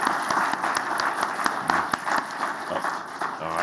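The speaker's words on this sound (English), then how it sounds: "we all owe another round of applause to Mary Lou" Audience at an educational session giving a round of applause, a dense sustained patter of many hands clapping with no talking over it.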